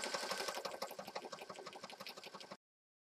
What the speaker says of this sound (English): I got the sewing done